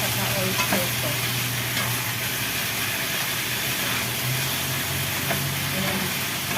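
Minced pork and eggplant sizzle in a pan with corn flour and oyster sauce, a dense continuous frying hiss with a low steady hum underneath, close and loud, with no talking.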